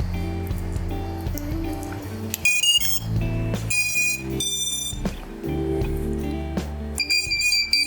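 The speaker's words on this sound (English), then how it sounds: "we need a battery in for that in order for it to beep" An iFlight Nazgul Evoque F6D FPV drone emits a series of short electronic beeps and tones in quick sequence after its battery is plugged in, over a steady background hum, close and clear.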